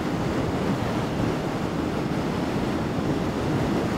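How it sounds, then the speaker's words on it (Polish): Strong wind roars over the microphone while riding a litre-class V2 motorcycle, the MBP C1002V, a dense continuous rush of buffeting noise that masks nearly everything else. "Nawet mimo tak dużego wiatru"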